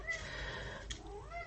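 A house cat meows repeatedly indoors, a few close, rising and falling cries over low room hum, with no talking.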